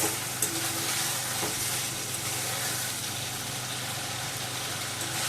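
Lentil dhoka masala sautéing in oil with Kashmiri chili, a steady close sizzle and frying hiss with stirring scrapes running through the whole stretch, no voices.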